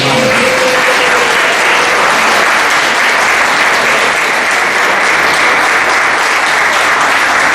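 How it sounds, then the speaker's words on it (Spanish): A church congregation applauds during a Sunday service, steady dense clapping filling the room from start to finish with no break and only a faint murmur of voices underneath. "Los aplausos para el Señor."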